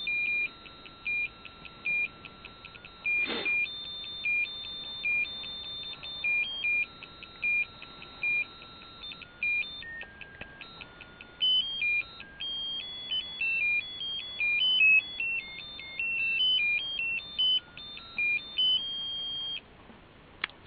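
A ceramic musical cookie jar plays its standard electronic melody, a steady run of bright beeping tones lasting throughout, with a single sharp click near the start as the lid is moved.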